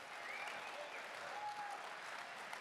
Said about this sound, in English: Only in a room full of conservatives does God get applauded.